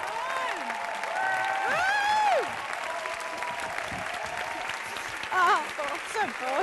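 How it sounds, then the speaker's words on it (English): Audience at a comedy show clapping throughout, steady applause under a host's loud amplified voice speaking over it. "keep that round of applause going"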